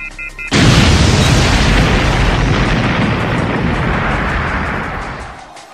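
A school is blown up by explosives planted under the janitor's chair: a sudden loud blast bursts in after brief quiet and rolls on as a long, heavy rumbling roar that slowly fades.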